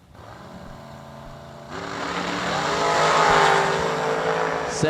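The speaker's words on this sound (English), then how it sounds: "The junior dragster in the left lane." A junior dragster launches down the drag strip at a raceway, its engine note building and swelling in loudness as it accelerates away over steady track noise.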